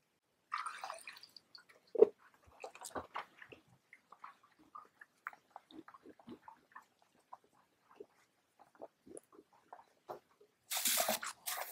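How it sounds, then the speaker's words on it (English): Quiet, scattered drips and small clinks of liquid, ending in a short burst of film developer pouring close by into a tank for 35mm black and white film. "I'm going to pour in my developer."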